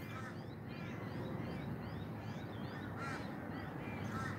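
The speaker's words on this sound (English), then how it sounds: "Sounds of the crow." Crows caw repeatedly in the morning, a steady run of harsh calls at moderate distance over a dense, constant outdoor background noise.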